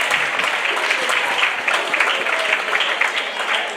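A crowd claps for their teachers at a school gathering, loud, dense and close, a continuous roll of many hands with no talking on top.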